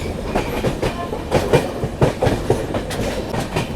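A train rolls along with steady rhythmic clickety-clack of wheels over rail joints and a loud continuous rumble, heard close during a crossing with the Kolkata Sairang Express.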